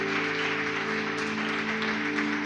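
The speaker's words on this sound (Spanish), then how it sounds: "Dale un fuerte aplauso al Señor." Church congregation at a Spanish-language service applauds, a continuous, moderately loud clapping wash under sustained, droning musical tones.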